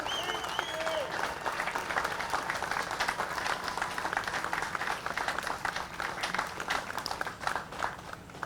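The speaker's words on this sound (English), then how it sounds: "So, a round of applause for these 4 heroes with us today." A crowd at a Fourth of July patriotic program applauds veterans, with steady, dense clapping that holds at an even level for several seconds.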